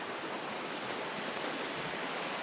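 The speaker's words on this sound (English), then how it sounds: "Got the creek down below me down there, lined with blackberries." Creek flowing below a blackberry-lined bushwalking track between Daylesford and Hepburn Springs, heard as a steady, even rush of water that holds without a break, with no talking over it.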